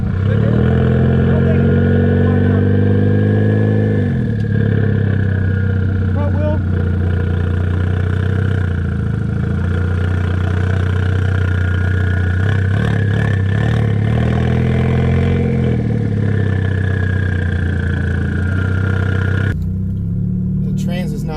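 A big-turbo Ford Fusion engine runs close by, holding a steady drone, then revving up and easing back several times before cutting off near the end, with voices talking over it.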